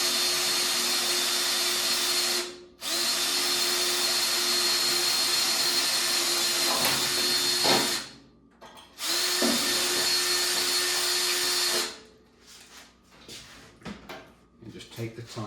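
A power drill with a 1/8 bit bores a hole in aluminum footbox panel for a Factory Five MK4 Roadster build, running in long loud steady whines broken by brief pauses, close up, then stopping into softer workshop clatter.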